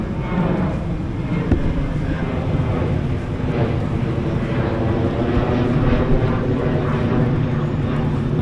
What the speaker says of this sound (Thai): ระหว่างที่พูดรีวิวไปเนี่ยเราจะเจอเครื่องบินผ่านไปกี่ล ำ ลำที่สองผ่านไป